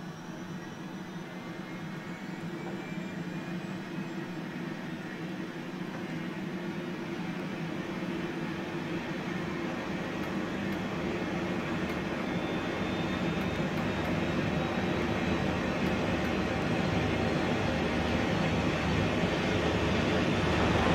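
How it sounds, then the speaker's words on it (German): Engine 2 of the Christoph 16 rescue helicopter starting up in a flight simulator, a steady turbine whine and hum that slowly rises in pitch and grows louder over about twenty seconds. "dann starten wir Triebwerk 2"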